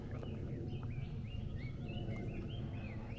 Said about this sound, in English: You can actually hear the birds as well.